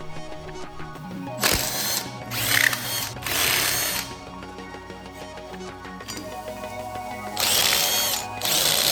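Ratchet wrench torquing the rear wheel of a wrecked 2009 Yamaha R6 after a new chain install, heard as several short bursts of rapid clicking separated by quieter gaps, close and fairly loud.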